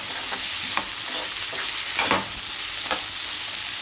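Onions sizzle and fry in a hot pan while a utensil stirs them in quick, scraping strokes, a steady close crackle with no voices.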